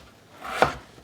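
A kitchen knife slices through a potato on a board, cutting it into cubes: one crisp, close chop stands alone against a quiet background.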